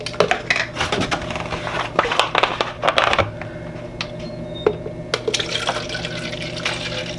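Conductivity standard liquid pours into a container for calibrating a sonde, giving a close splashing, trickling fill with knocks and clinks, continuous for several seconds.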